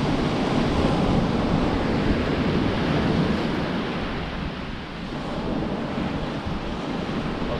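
Continuous surf and wind along the shore, a dense, even roar of breaking waves with heavy wind buffeting on the microphone, loud and unbroken, with no voices.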